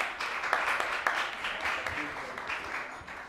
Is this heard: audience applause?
yes